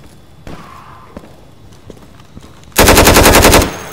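Gunfire in the video game Insurgency: a few sparse single shots and thuds, then a loud, rapid automatic burst of machine-gun fire close by for about a second, with no talking over it.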